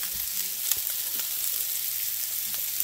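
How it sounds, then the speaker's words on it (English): A butter and flour roux sizzles in a pan while being stirred, producing a steady, close, bright hiss with a few faint stirring ticks. "Mix that in, stir that for a couple minutes for your roux."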